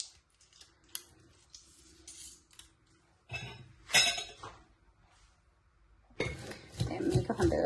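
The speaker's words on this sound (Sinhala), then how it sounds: "දැන් මේක හොඳට දෙහි එක කලවම් කරගන්න" Clinks and scrapes of a utensil stirring lime juice through coconut sambol in a bowl come in quiet, irregular bursts, with louder clattering mixing near the end.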